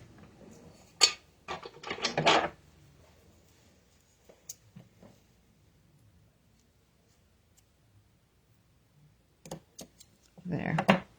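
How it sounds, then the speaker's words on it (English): Ribbon scissors snip off the extra end of a ribbon on a handmade card, a few quick close crisp cuts and rustles at the start and end with quiet gaps between. "And we'll cut off our extra end. Get the ribbon scissors out."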